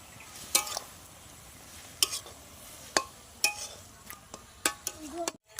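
Stirring Maggi noodles with fried egg and chopped coriander in a pan: a low frying hiss under sharp, irregular metallic scrapes and clinks from a spoon against the pan, close and moderately loud.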